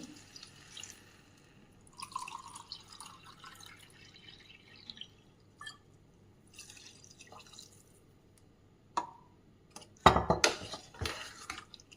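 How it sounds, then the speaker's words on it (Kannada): Two cups of water are poured into a pot of rice for vangi bath, a short splashing rush near the end after scattered clinks of utensils against the pot in a quiet kitchen. "ನಾನೀಗ 2 ಕಪ್ ನೀರು ಹಾಕ್ತಾ ಇದ್ದೀನಿ"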